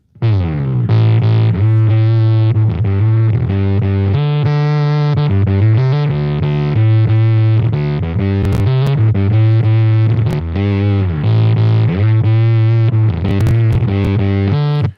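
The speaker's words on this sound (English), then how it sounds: "It's a clean Gallien and Krueger, and we will go back to the bass preset and take a listen." Bass guitar played through a clean Gallien-Krueger amp preset on a TONEX modeler, a continuous sustained bass line with steady notes and slightly driven, effected tone, loud and alone without talk.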